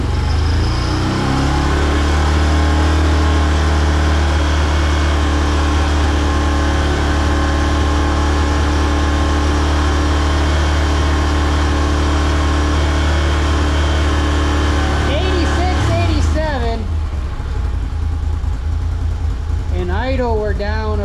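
Can-Am Renegade 1000 ATV with a Yoshimura exhaust, the engine held at a steady high rev for about fifteen seconds before dropping back to a lower idle, loud and close, with people talking over it.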